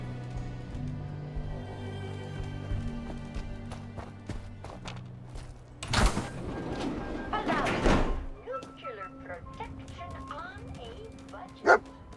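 Dogmeat, the German Shepherd companion in the video game Fallout 4, barks in a few sharp bursts mixed with footsteps and a door sound over game music, while a voice speaks.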